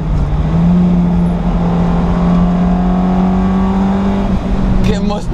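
A 70 hp Autobianchi A112 Abarth climbing a steep uphill road, its engine droning loud and steady under load with a sustained, slowly rising pitch, heard from inside the car.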